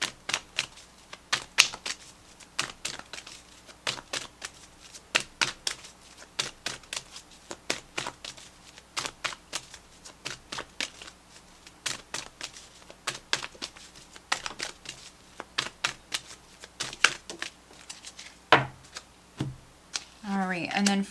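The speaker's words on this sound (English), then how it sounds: "Let's pull you an additional guidance card" Oracle cards from an Archangel Raphael healing deck are shuffled and pulled, giving rapid, close riffling and crisp slapping clicks in irregular bursts throughout, with a few louder snaps near the end.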